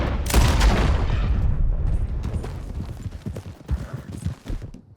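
Horse hooves gallop in the Red Dead Redemption 2 video game, a quick rumbling clip-clop that stays close and busy throughout, with bursts of gunfire mixed in.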